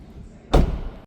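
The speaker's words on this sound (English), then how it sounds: "So let's shut this door and we'll go to the other side next." The door of a 2025 BMW X3 M50 swings shut in one solid, loud slam with a deep thud, followed by a brief fading reverberation in a quiet setting.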